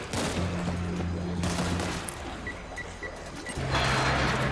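Rapid bursts of video-game gunfire from World War Z on PC, dense and continuous with a sustained low hum running underneath, loud and steady throughout.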